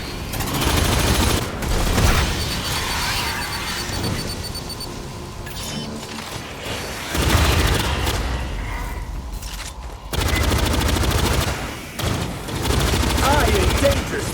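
Automated turret fire in the sci-fi shooter Aliens Fireteam Elite 2, sustained bursts of loud gunfire that surge and ease across the scene amid heavy combat noise, with voices calling out over it.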